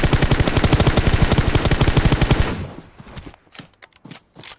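Rapid automatic gunfire from a mobile shooter video game rattles in a loud, close burst of evenly spaced shots, then gives way to a few scattered, fainter single shots.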